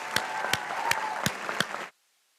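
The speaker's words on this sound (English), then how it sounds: "Let's give them one more round of applause." Applause from the audience at a school class night, a steady patter of clapping with a few sharper claps standing out, then cutting off abruptly to silence.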